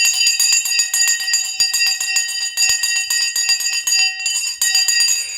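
Stock market opening bell ringing loud and close, a rapid train of bright metallic strikes that continues almost without pause, with a brief gap near the end before the ringing resumes.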